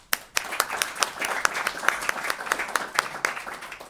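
Applause from the audience at an annual general meeting, a lively spread of distinct hand claps rising quickly after a brief quiet start and continuing steadily throughout.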